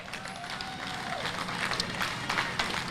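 A rally crowd in Washington, D.C. applauds with dense scattered clapping and faint cheering, moderately distant and continuous throughout.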